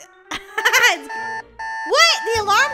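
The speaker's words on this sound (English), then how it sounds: "The alarm went off" A cartoonish alarm clock rings out in a mobile app game, a short beeping jingle amid playful game sounds and brief childlike voices.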